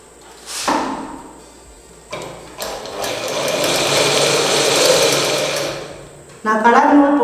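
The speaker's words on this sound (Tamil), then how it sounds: "நான் மிஷின் ஸ்டிச் தான் போடுறேன்." A sewing machine runs a hem stitch along a fabric fold in colored thread, whirring in bursts that swell into a long steady run, loud and close, with brief pauses and handling noises between.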